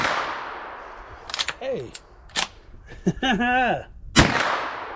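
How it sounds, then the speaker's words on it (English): Sharp shots from a GForce Arms Saddlehorn lever-action rifle in .357 Magnum ring out at a range, a few loud cracks spread across the moment, with a brief spoken exclamation between them. "First shots, the Saddlehorn 357 mag."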